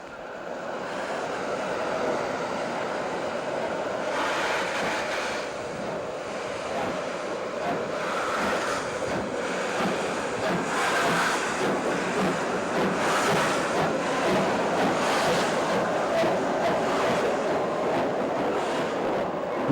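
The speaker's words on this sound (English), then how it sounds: "We rode the Jogja Express back towards central Java" Jogja Express, a steam express train hauled by a post-war D-52 locomotive, running through central Java, Indonesia; a steady, loud rolling rumble continues throughout with rushing, wind-like noise and no voices.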